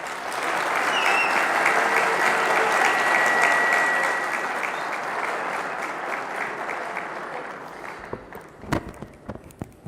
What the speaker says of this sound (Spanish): que lo recibimos con un fuerte aplauso